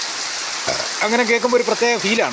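Rain falls as a steady, moderate hiss that runs beneath a person speaking in the foreground.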